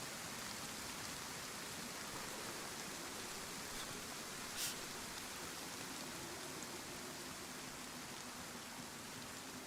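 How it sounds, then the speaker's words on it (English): Steady rain hisses evenly in the video game DayZ, a soft, constant wash of falling drops with no other sound standing out. "I'm making use of the rain to muffle my sounds."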